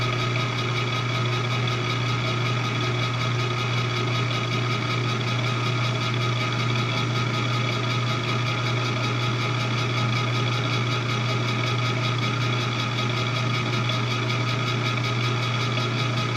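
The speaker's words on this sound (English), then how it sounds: "you might notice what sounds like a lot of gear noise and a lot of whining" An Acra milling machine runs with a steady gear noise and a constant whine, a continuous mechanical drone held at an even level throughout with no voices.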